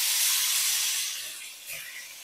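Steak hits a hot pan with a loud, close hiss that surges at first, eases slightly, then swells again as the sizzle continues without talk.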